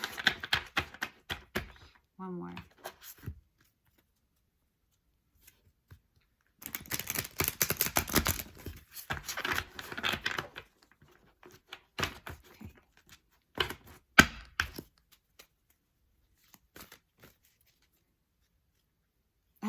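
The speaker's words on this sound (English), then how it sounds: "Sometimes my shuffles are not so good." A thick deck of tarot cards is shuffled in short bursts of papery riffling and slapping, with quiet pauses between, and a soft voice speaks briefly.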